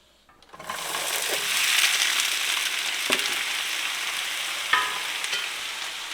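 A roux for duck gumbo sizzles steadily in the pot while it is stirred in circles. A few soft scraping clicks from the utensil stand out over the broad, even hiss, and there is no talking.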